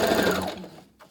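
A sewing machine stitches a fabric face mask, its fast motor hum running loud and steady for most of the moment before winding down and stopping, with a faint final whir.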